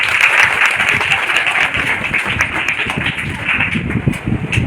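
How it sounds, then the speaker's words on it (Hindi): Classroom applause from schoolchildren at a middle school in Bhagalpur, a dense, steady patter of many hands clapping together throughout, fairly loud, with faint voices mixed in. "बहुत अच्छे, ताली बजाओ उसके लिए।"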